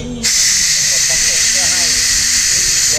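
A sharp burst of compressed air hisses steadily into a Volvo fuel injector, blowing out dust and debris for about three seconds, loud and close.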